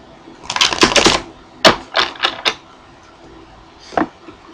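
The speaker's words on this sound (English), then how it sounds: "Give it two shuffles, couple shuffles" Tarot cards are shuffled close by in quick riffling bursts, a cluster of crisp flaps followed by a few separate snaps and a final tap.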